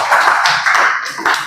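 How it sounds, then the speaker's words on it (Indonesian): A brief burst of applause from a classroom group, a short patter of claps that rises and fades in a couple of quick waves. "Tepuk tangan buat kelompok 2."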